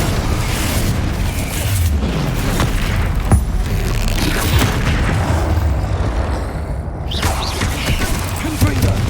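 Blasting-spell explosions in Hogwarts Legacy combat, repeated booming bursts and rumbling impacts in a steady loud barrage, with a voice talking over the action.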